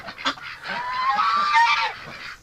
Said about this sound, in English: A lot of ducks in here.